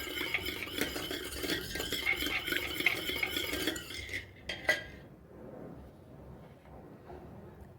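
Chocolate cake batter with eggs and a cup of milk being whisked in a bowl, a busy wet clinking that runs steadily for about four seconds, then stops, leaving a couple of faint taps.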